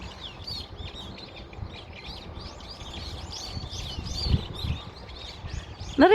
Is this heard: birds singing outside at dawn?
yes